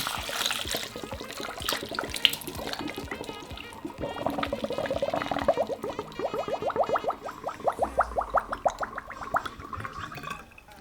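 Homemade mango and coconut rum poured through a funnel and fine sieve into a small 50 cl bottle, a close gurgling trickle that turns into rapid rhythmic glugs as the liquid fills.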